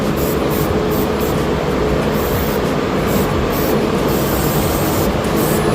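A loud, steady hiss of spray onto the engine of a supercharged 9th-generation Honda Civic on a dyno runs without a break for several seconds, close up and unbroken by any voices.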